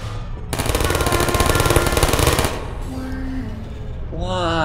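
Rapid automatic turret fire from the Portal video game rattles loud and dense for about two seconds, then stops, leaving game sounds and tonal beeps behind.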